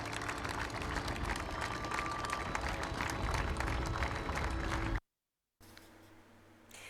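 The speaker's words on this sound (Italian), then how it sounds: "Il feretro è poi partito tra due ali di folla, l'ultimo applauso al cavaliere" A large crowd applauds steadily for several seconds at a funeral procession, dense clapping outdoors, then it cuts out abruptly before a quieter ambient stretch.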